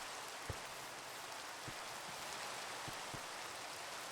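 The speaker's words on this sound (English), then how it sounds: "it's raining, boy" Steady rain falling in a video game, a faint continuous hiss with a few scattered droplet ticks.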